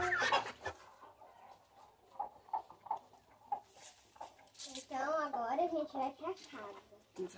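Brooding hens cluck and cackle close by, a run of short clucks then a louder warbling burst, with a voice and other talk mixed in.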